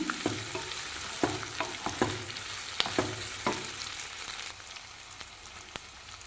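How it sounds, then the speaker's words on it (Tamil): Garlic and ginger sauté in a pan for chicken gravy, a quiet, steady sizzle punctuated by repeated sharp clinks and scrapes of a spoon stirring against the pan, with no one speaking. "இதோடைய பூண்டு சேர்த்துக்கிறேங்க இஞ்சி பூண்டு டேஸ்ட்டாகவும் நீங்கள் போட்டுக்கலாங்க நான் இதிலேயே போட்டு வதக்கிக்கிறேங்க"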